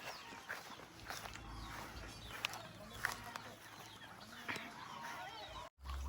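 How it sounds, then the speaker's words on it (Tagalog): Turkeys and geese clucking and calling around a farmyard at feeding time, with scattered footsteps and rustling close by and a low steady hum underneath. "pinakain na natin yung mga pabo saka gansa"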